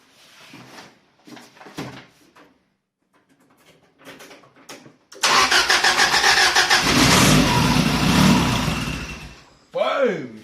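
A Toyota 3SGE Beams engine, fixed after a no-start caused by removed VVT bolts, fires up and settles into a loud, steady run up close after a stretch of speech and clatter, then a voice cuts back in.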